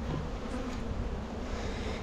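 Honey bees inside an open hive buzz in a dense, continuous drone, close and fairly loud, steady throughout without any voices.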